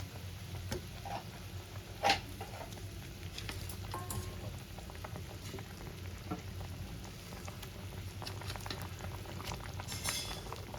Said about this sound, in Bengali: ঝোলটা আমার ফুটে গেছে এবার আমি ভেজে রাখা মাছগুলো দিয়ে ভালো করে ফোটাবো